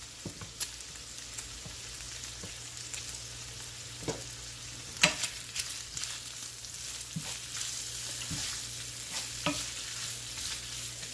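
Bacon frying in a pan, a continuous crackling sizzle with scattered pops and occasional utensil taps, fairly close and even in level throughout.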